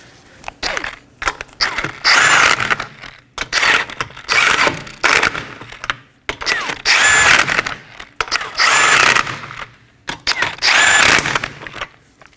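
Rapid ratchet clicking in bursts as a socket wrench snugs down the five 21mm lug nuts on a 2015-2023 Nissan Maxima wheel in a crisscross pattern, close and loud, about five runs separated by brief pauses.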